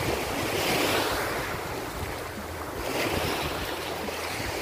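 Ocean surf roars steadily with breaking waves during a typhoon, mixed with heavy wind buffeting the microphone; loud and continuous, no voices.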